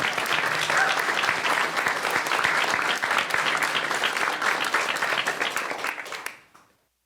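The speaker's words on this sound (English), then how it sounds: "Insert applause." A crowd at a Wisconsin state budget signing event breaks into steady, full applause for about six seconds before it tapers off to silence.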